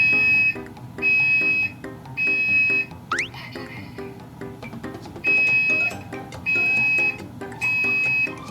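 A loud smoke alarm set off by smoke from syrup boiling on a stove, sounding in repeated bursts of shrill beeps with short gaps, over a steady background hiss.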